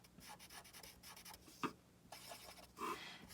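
A pen taps and scratches quick polka dots onto a paper drawing of a fish, a close, faint run of small ticks and short scrapes with brief pauses between them.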